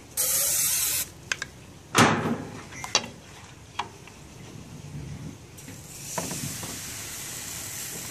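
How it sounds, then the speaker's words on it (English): Short hissing bursts from a cooking oil spray can onto a crepe pan, with a long spray at the start and several quick puffs after, close up over quiet background. "just a quick bit more spray."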